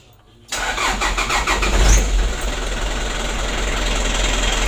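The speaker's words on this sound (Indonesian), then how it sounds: "Maksud saya itu starternya agak panjang begitu lor." A 2016 Hino Dutro 130 HD truck engine cranks briefly and catches, rising to a loud rev and then settling into a steady, rough idle close by.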